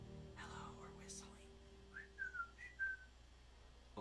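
Short, faint whistled notes, a few brief pitched chirps in a row after some soft breathy sounds, close and quiet.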